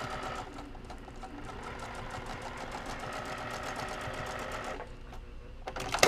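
A sewing machine runs steadily for about five seconds as it stitches a zipper bag seam, then stops and leaves a short quiet tail.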